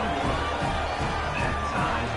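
A stadium crowd roars in an Army vs Temple football video game simulation, a dense, steady wash of cheering and murmur at moderate loudness with no clear single voices.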